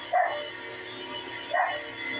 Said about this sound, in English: just ignore the dog, because I don't care about that dog. That dog can shut up.